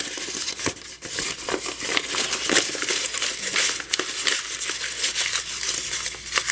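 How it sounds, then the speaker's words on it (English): A paper bag is crumpled, unwound and crumpled again by hand to soften it, giving continuous close crinkling and rustling with sharp crackles throughout. "So I'm going to crumple it up, unwind it, uncrumple it, and then crumple it back up a couple of times."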